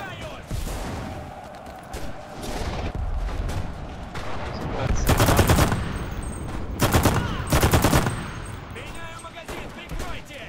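Gunfire in the World War II shooter Enlisted: repeated close rifle and machine-gun bursts over a constant battlefield rumble, loudest in several sharp clusters, while someone talks at times.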